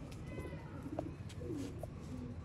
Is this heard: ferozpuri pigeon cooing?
yes